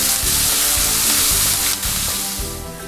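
Onions with salt sautéing in hot oil until brown, a loud close sizzle with rhythmic stirring scrapes pulsing through it, easing slightly toward the end with no voices.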